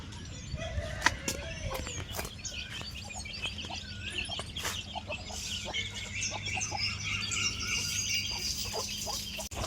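Country chickens clucking throughout a rural chicken farm shed, a continuous overlapping chorus of clucks and chirps with a low background hum.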